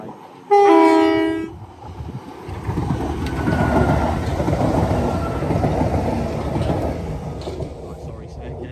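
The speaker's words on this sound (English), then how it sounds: "there's a train" A train sounds a loud horn in a short series of blasts as it nears a foot crossing at Barnham, then passes close with a long rolling rumble of wheels and carriages.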